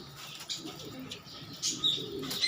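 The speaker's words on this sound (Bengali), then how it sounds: "কবুতরগুলোকে দেখাই।" Pigeons in a loft coo softly with low, rolling calls, with a few chirps and wing flutters mixed in. The sounds are close but quiet and come in short overlapping bursts.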